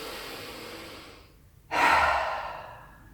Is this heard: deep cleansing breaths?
yes